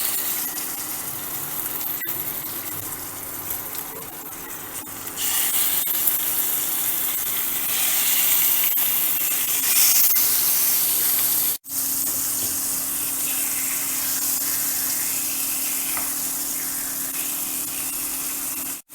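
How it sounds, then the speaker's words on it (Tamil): Fish shallow-frying in about two spoons of hot oil in a pan for a coconut milk fish curry, a steady dense sizzle that swells louder partway through and continues with a brief break, no voices. "இப்போ நம்ம ஆயில் ஒரு 2 ஸ்பூன் ஊற்றி மீனை அரை பொரியலை பொரிச்சிக்குவோம்"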